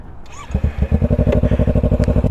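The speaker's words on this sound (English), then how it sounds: "this button right here, this wacky button, will start your bike for you" Fuel-injected motorcycle engine started with the electric start button: a brief starter whir, then the engine catches into a loud, rapid, even idle thumping close by.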